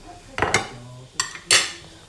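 A spoon scraping and knocking against a saucepan while tomato sauce is stirred, a few irregular clinks and scrapes at close range with quiet background between strokes.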